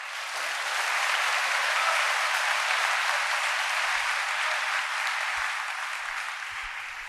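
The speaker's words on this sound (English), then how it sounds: "One more round of applause for Michelle Williams-Vaden." Sustained applause from a school convocation audience in an assembly hall, steady and full throughout, fading slightly toward the end.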